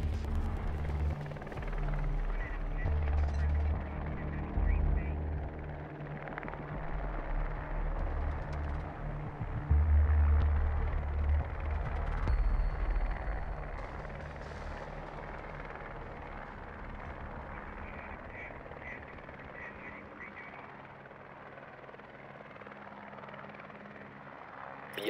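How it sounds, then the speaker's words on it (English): A recon drone rolls along in Rainbow Six Siege, a steady low mechanical whir and rumble that stays continuous throughout, gradually easing slightly in loudness, with no voices over it. "Need to use your drone to locate a bomb."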